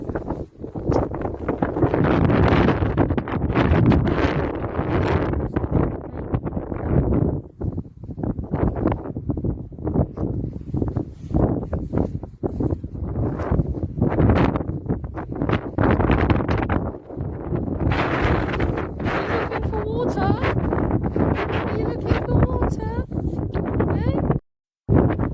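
Gusty wind buffets the microphone throughout an outdoor walk with a dog on a windy day, a steady loud roar with rustling surges, while someone talks over it.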